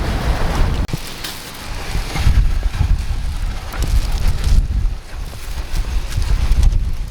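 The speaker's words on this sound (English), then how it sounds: "It's very windy today." Strong wind buffets the microphone in steady gusts, a loud rumbling roar with no talking.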